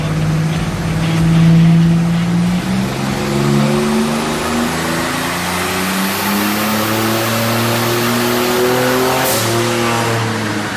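A hot rod engine leaking oil revs hard on a dyno, a loud sustained roar climbing steadily through the rpm range toward about 5,200 RPM, alone with no talk.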